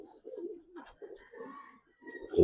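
Coloured giribaz pigeons coo close by in soft, throaty bursts with short pauses between them, ending in a louder rustle.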